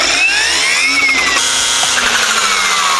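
Garden brush cutter with a guard fitted, running continuously at high revs through overgrown garden growth, a loud, close motor whine with shifting pitch and no talk.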